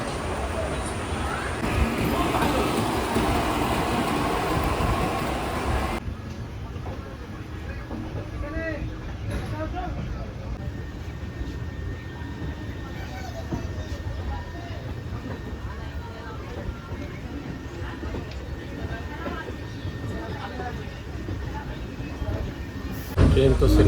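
The Padatik Express, a passenger train running from Kolkata toward NJP, rumbles steadily throughout with a low continuous roll and faint rhythmic wheel clatter, heard from inside the coach amid background noise.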